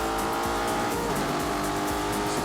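A heavy Lamborghini Urus drives in The Grand Tour video game, its engine droning loud and steady with road and tire noise, rising slightly in pitch as it pushes on, no talk over it.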